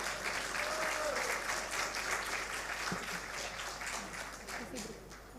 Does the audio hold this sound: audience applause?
yes